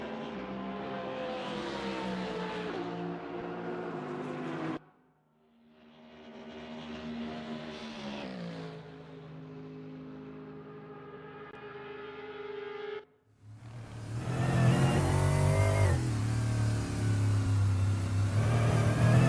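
Porsche GT race car at Paul Ricard, in-car engine wailing through rising gears, cutting off briefly at two shift points before surging back louder and harsher near the end, with no voices.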